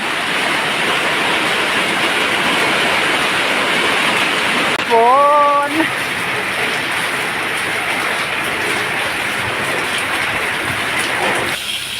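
Steady rain falls at a garden house beside a canal, a dense, even hiss that fills the whole stretch, with one short voice exclamation partway through.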